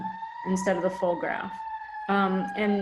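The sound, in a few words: siren in the background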